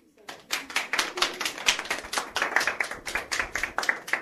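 A small audience claps for a singer after a talent show performance, a fairly quiet, rhythmic run of distinct claps that keeps a steady beat, with faint voices in the background.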